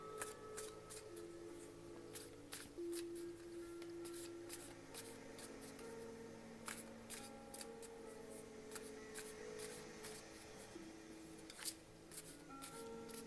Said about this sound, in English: So I'm going to shuffle them.